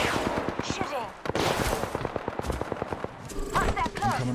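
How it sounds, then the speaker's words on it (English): Bursts of rapid automatic gunfire ring out in an Apex Legends firefight, loud and dense with sharp repeated shots, a brief lull, then more fire mixed with game effects. "I'm getting shot at."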